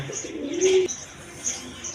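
A pair of Indian Kakji pigeons coo close by with soft, low rolling calls, one fuller coo standing out in the middle of a brief stretch of gentle cooing.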